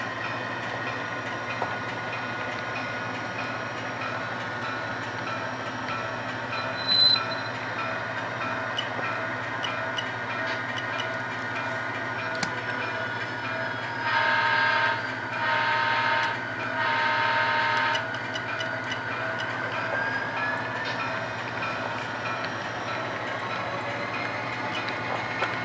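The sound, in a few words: HO scale model locomotive sound unit with turbo whine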